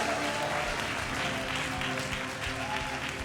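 A church congregation claps and applauds steadily to acclaim the Lord during a service, a broad, sustained wash of hands filling the room without pause.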